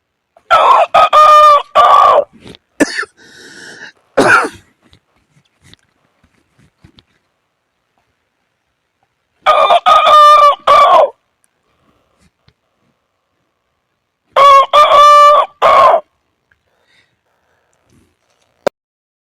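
A voice imitating a domestic rooster crowing, three loud, close cock-a-doodle-doo calls separated by long silences, with a few shorter clucking sounds after the first call.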